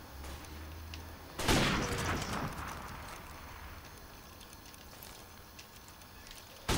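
Gunfire bursts through a wall in Modern Warfare Remastered, a sudden loud crackling volley that fades into a rough noisy tail, with another sharp hit right at the end.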